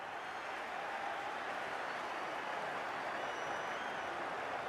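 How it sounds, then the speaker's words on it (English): A stadium crowd in the football game FC Mobile gives off a steady, dense roar with a clapping-like texture that holds at an even level throughout. "Well, just listen to this crowd."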